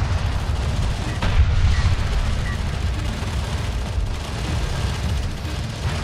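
Battle in the strategy game Homeworld: Deserts of Kharak, a dense continuous wash of gunfire and rumbling explosions with a sharp crack near the start, loud and sustained.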